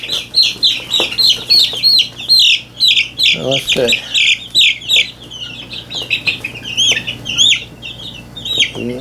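Several young chicks cluck and chirp continuously nearby in a busy, overlapping chorus, with someone speaking briefly over them.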